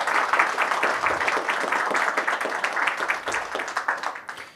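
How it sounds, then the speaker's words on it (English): Audience applause at a panel discussion for solution architects and sales engineers, a dense wash of many hands clapping close by that runs steadily and thins out toward the end. "Please help me give a round of applause to thank our panelists today."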